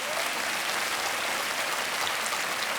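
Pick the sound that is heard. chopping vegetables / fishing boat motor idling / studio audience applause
studio audience applause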